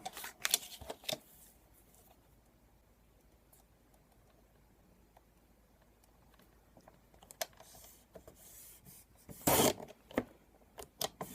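Paper being trimmed for a mini album pocket: sparse, quiet ticks and soft rubbing of a paper trimmer, with a louder, brief scraping slice near the end followed by a few light taps.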